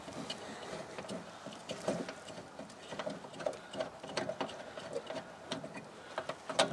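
Wrench working loose the gas line fitting on a Suburban water heater in an RV, heard as a quiet, irregular run of small metallic clicks and ticks.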